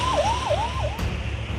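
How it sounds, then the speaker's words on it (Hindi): An emergency warning siren sounds during flooding and landslides in Uttarakhand, rising and falling in three quick wails over steady low rumble before cutting off, with the rumble continuing alone. "प्रशासन ने मोर्चा संभाल लिया और सायरन बजाकर लोगों को सतर्क कर दिया"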